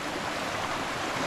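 Cool mountain stream water flowing steadily on a hillside trail at Ma Thiên Lãnh, Tây Ninh, a continuous close broadband rush with no talk over it.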